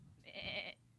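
A goat named Chimney gives one drawn-out nasal bleat at close range, loud against a quiet room, lasting about half a second.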